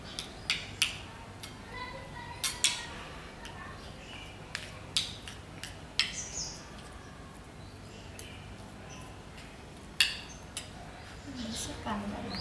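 Utensil clinks and scrapes in a bowl as rock salt, coriander and tomato are stirred together, with sharp intermittent taps over a soft, steady background.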